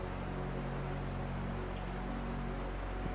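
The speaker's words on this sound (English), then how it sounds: "to enjoy the sound of the rain as it falls on the glass roof" Rain pours steadily onto a glass roof, a dense, even patter of drops drumming close overhead without pause.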